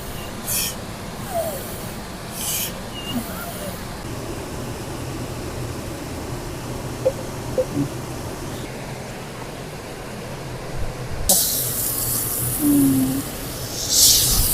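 Fish fry in oil on a flat griddle outdoors, a steady sizzling hiss running throughout with brief louder crackles and bursts, while occasional voices and faint background sounds come and go.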